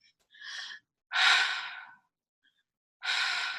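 Three deep breaths out, each a long airy exhale with a pause between, close and clear in a quiet room during a guided breathwork session, no talking.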